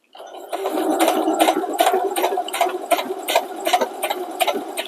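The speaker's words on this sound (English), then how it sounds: "I'm just doing a straight stitch." A sewing machine runs a steady straight stitch along the hem of a pair of coveralls, its needle clatter pulsing in an even, rapid rhythm close by and without pause for several seconds.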